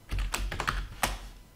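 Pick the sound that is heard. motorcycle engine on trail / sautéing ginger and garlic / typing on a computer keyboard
typing on a computer keyboard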